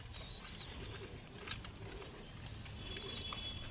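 Red checker racing pigeons cooing softly, with low, muffled coos and a few light chirps against a quiet background, fairly faint and close.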